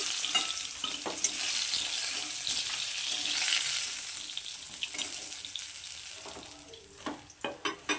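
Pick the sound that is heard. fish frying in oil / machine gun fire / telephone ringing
fish frying in oil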